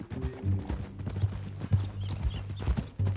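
Horse hooves clip-clop in a steady walking rhythm, close and clear, with a low rumble underneath, from the video game Red Dead Redemption.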